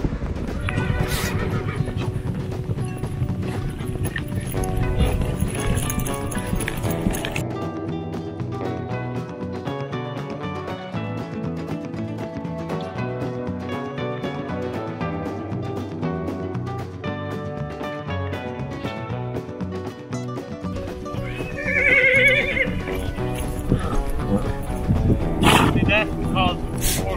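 Horses on a trek in Mongolia whinny and neigh loudly while their hooves clip-clop at a steady pace close by, with people talking throughout.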